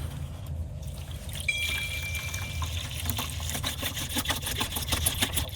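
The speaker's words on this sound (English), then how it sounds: "Just dump that contents of the bag. Add your distilled water." Distilled water pours into a wood treatment mix for beehive boxes, a steady liquid trickle and splash over low background rumble, continuing without talk.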